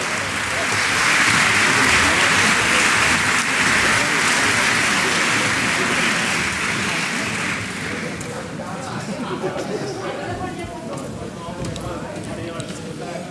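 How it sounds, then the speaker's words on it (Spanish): Audience at a Cartagena charity association event welcomes a speaker with loud, sustained applause, a dense wash of clapping that eases after several seconds into a softer, steady patter. "Le recibimos con un fuerte aplauso"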